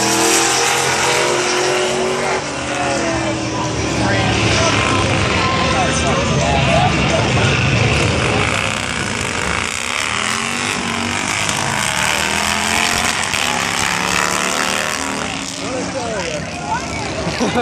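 A Mustang drag racing car at a summer nationals drag meet roars loudly and continuously as it accelerates hard, a dense engine howl filling the whole stretch while people talk over it.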